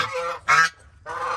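Fighting geese on a farm give loud, harsh honks in three bursts, close by, with short pauses between the calls.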